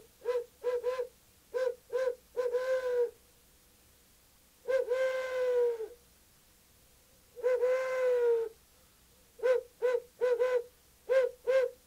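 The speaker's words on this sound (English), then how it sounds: "I'll hit a couple series on the owl call" Series of low owl hoots from a mechanical owl call used for locating turkeys, short notes in quick clusters with a couple of longer drawn-out hoots between, quiet background.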